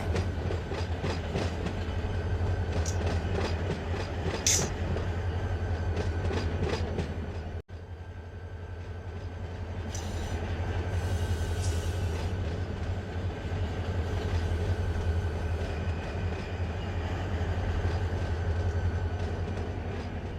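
A freight train rolls along in the Run8 Train Simulator V3 game near West Colton Hump Yard, a steady low rumble of wagons with rhythmic wheel clicks and a brief metallic clank partway through.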